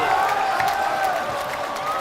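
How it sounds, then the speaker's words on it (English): A basketball crowd at a playoff college game roars and cheers after a three-pointer, a sustained dense wash of voices and applause that stays loud and steady throughout. "this crowd is on their feet"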